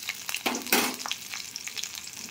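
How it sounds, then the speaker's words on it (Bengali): Garlic cloves frying in a little oil until browned give a close, steady sizzle, broken by a few sharp scrapes and clatters of stirring and one louder burst of spattering. "রসুনগুলোকে আমি একটু লাল লাল করে ভেজে নেব।"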